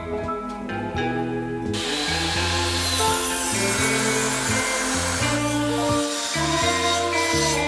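A power saw cuts through wood for a bird box, droning loud and continuous with a steady whine over rhythmic chopping, the tone shifting as the blade works through the board.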